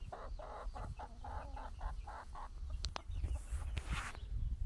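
Farm chickens cluck in a rapid, rhythmic series close by, followed by scattered softer calls and rustling, with no talk.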